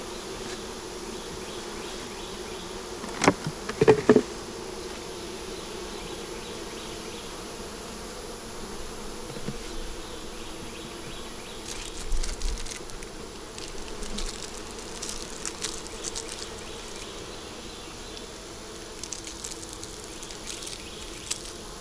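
Honey bees buzz steadily around a hive, a continuous low droning hum with a few louder close passes and knocks, individual insects flitting near and away throughout.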